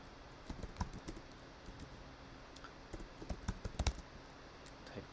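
Macro code being typed on a computer keyboard, with quiet, rapid key clicks arriving in irregular bursts against a soft background hiss, no voice present.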